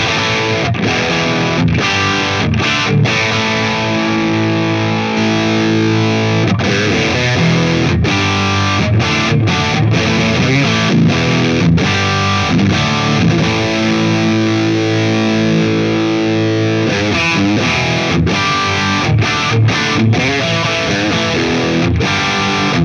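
Electric guitar chords played through a Friedman BE-OD Deluxe overdrive pedal, cycling through its voice options, with thick distorted strums that ring and stop in repeated bursts, loud and close with no talking.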